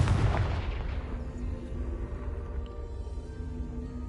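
Confringo fire spell exploding in Hogwarts Legacy, one heavy booming blast at the start that rolls into a long, fading rumble with a faint tonal hum.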